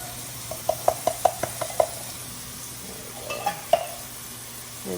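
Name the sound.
stirring chili beans into browned beef in a pot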